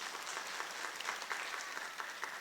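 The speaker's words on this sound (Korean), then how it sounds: "박수 한번 치십시오." A church congregation claps together in a steady, even burst of applause that fills the whole short stretch at moderate volume.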